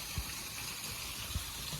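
A small landscaped garden with a little waterfall feeding a stream gives a steady, soft rush of flowing water, with a couple of faint low thumps underneath.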